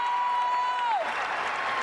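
A crowd at a Big East basketball championship game applauds a speaker, moderately loud clapping and cheering in a large venue, with a sustained whistle-like tone at the start that drops away.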